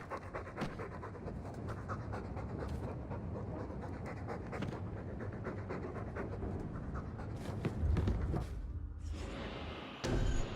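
A dog pants steadily in the Dragon Age 2 video game, a continuous rhythmic breathing that runs through the whole stretch over a dense game soundscape, with a louder burst near the end.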